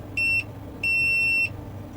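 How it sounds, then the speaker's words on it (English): Two sharp electronic beeps from a continuity tester touched to the ground line of a Bose portable home speaker under repair, a short beep followed by a longer one, loud and clear over a low background hum. "If you heard the beep sound, meaning that is the ground."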